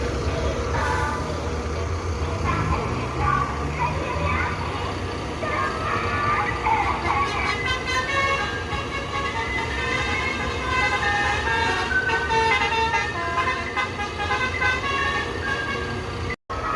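A bus engine rumbles loudly close by as a bus leaves Barisolo terminal in Indonesia for Jakarta during the post-Lebaran return rush, with car horns tooting, traffic noise and people talking.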